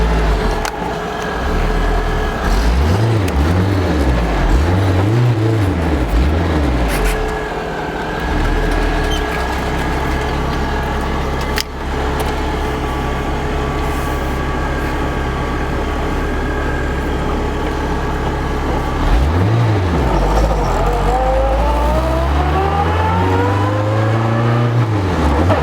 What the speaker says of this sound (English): Car's working, we're in it, and we're gonna test it out right now.